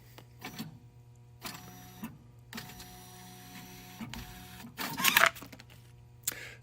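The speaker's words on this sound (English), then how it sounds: "the printer can now calibrate itself" Zebra thermal label printer running its self-calibration, a series of short mechanical whirs and feed bursts separated by pauses, close and fairly quiet, with a louder motor burst near the end.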